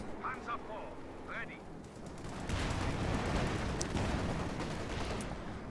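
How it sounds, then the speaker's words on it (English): Heavy machine guns rattle in a World War II strategy game as infantry crawl toward them, with dense bursts of gunfire building from the middle onward over a continuous rumbling battle bed and occasional voice-like chatter early on. "You've got heavy machine guns against infantry just crawling on their bellies towards them slowly."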